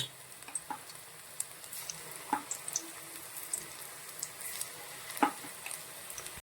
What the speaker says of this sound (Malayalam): നമുക്ക് എണ്ണയിലോട്ട് ഇത് ഓരോ പീസ് ഓരോന്നായിട്ട് ഇട്ട് കൊടുക്കണം